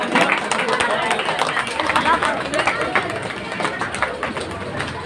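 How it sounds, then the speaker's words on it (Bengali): Crowd applause at a village political gathering honouring a local MLA, steady clapping mixed with crowd babble and a voice speaking over it. "সবাই একটু জোরে হাততালি দেবেন"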